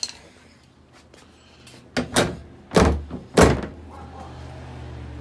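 Several heavy thunks as a car hood is lowered and shut, three or four close, loud impacts in quick succession over a quiet background, the last ones strongest.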